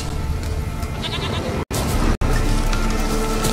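A goat bleats in The Witcher 3, its wavering calls loud and close over a steady game ambience, with two brief dropouts midway.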